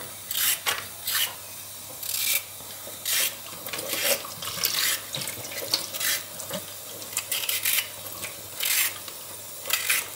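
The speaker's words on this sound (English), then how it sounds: "peeling the carrots." Carrots being peeled by hand, a close series of rasping scraping strokes in bursts with short pauses between, fairly loud and rhythmic throughout.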